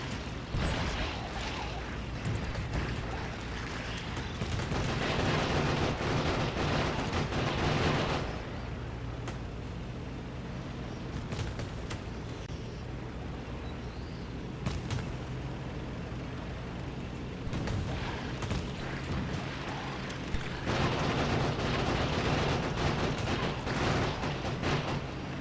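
A tank fires on enemies in Factorio, with repeated heavy booming shots and rumbling blasts in long dense stretches over a continuous engine drone.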